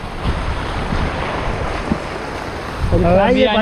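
Floodwater in Konkan roaring past after a sudden heavy downpour: loud, continuous broadband rushing close to the microphone with wind buffeting, and a voice breaking in near the end.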